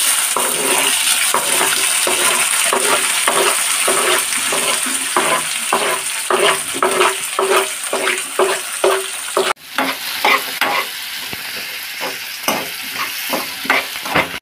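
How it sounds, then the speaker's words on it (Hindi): Tomatoes and onions sizzle loudly in a pan while being stirred for kadhai paneer, with repeated scraping strokes in a steady rhythm and one brief pause partway through. "अब हम इसको फ्राई करेंगे।"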